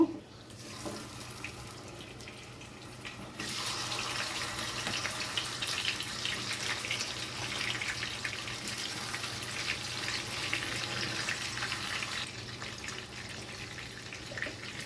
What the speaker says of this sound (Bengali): তেলটা গরম হয়ে গেছে, আমি মাছগুলো হালকা করে ভেজে নেব।